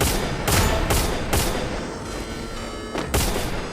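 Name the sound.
gunfire in the video game Free Fire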